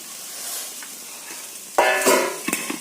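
Vegetables frying in a home kitchen pan for a Bengali winter meal, a soft steady sizzle that jumps louder near the end with bursts of crackle and stirring clatter.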